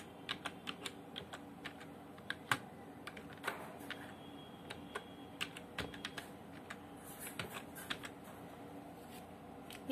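Someone types a name on a computer keyboard while working in Microsoft Word: quiet, irregular clicks of individual keys, spaced unevenly over a faint steady background hum, with no talking.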